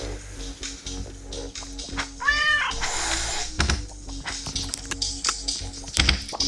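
A cat meows once in the Turnip Boy video game, a short rising-falling call among soft game thumps and clicks, with no talk.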